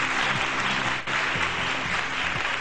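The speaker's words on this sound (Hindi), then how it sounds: "बहुत सारी तालियां चाहिए" A studio audience claps loudly and steadily throughout a Pakistani morning TV show, with a dense, continuous wash of applause and faint voices underneath.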